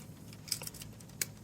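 Tools are pulled out of a Super Tinker multi-tool pocket knife, giving faint metallic clicks and two sharp snaps as blades spring into place, quiet and close with no talking.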